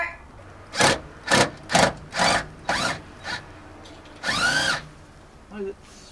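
Power wrench or drill driving seat bolts inside a skoolie school bus conversion, in six loud separate bursts of whirring with short pauses between, then a longer final burst, up close with no talk over it.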